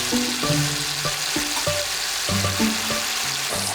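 Hamburger patties frying in a Staub Dutch oven, a loud steady sizzle with crackling and occasional scraping of a utensil against the pot, close up, no talk.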